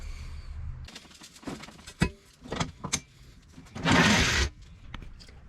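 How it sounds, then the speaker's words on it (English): A jack being lowered beneath a C4 Corvette gives off a close run of metallic clicks and knocks, then a short, loud hissing release before quieter clatter; no talking. "So all I got to do now is lower the jack."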